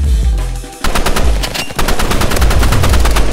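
Rapid automatic gunfire in the Roblox shooter Rivals, loud and close, rattles in fast bursts after a brief lower rumble, a dense stream of evenly spaced shots lasting a few seconds.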